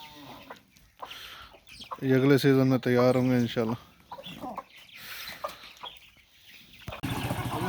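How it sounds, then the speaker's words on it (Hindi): Village chickens cluck loudly for a couple of seconds near the middle, with someone talking before and after. "ये मुर्गे हमारे"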